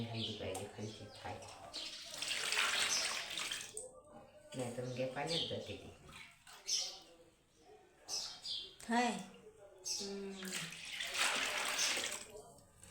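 Water splashes and pours off settled wheat starch being made into kurdai, in a couple of longer watery bursts while people talk nearby.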